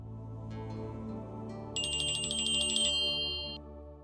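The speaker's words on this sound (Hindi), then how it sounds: "फोन आया।" A phone rings with a bright electronic ringtone, a short chime first and then a louder trilling ring over a steady low hum, with no talking.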